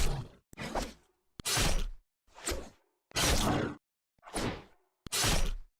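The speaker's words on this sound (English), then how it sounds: "Sounds like you're slicing something in half." Seven loud pickaxe swing effects from Fortnite, each a broad slicing swoosh about half a second long with a hard edge, evenly spaced with short silences between and no voices.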